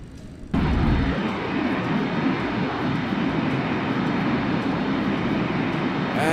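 Simulated MD-80 airliner engines roar through a takeoff roll in Microsoft Flight Simulator 2020, a loud steady broadband rumble that jumps up abruptly after a quieter start and holds constant throughout.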